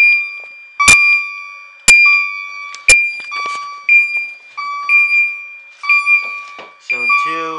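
Fire alarm sounding in a Zone 2 test on a Firelight BG12 panel: three sharp strobe-synced clicks followed by repeated loud electronic tone bursts in an even rhythm, close and alone.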